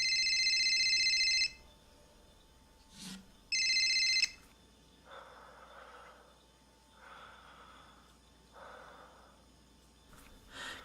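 A burner phone rings in an audio drama, two bright electronic trills with a pause between them, followed by quiet breathing and low snorting sounds.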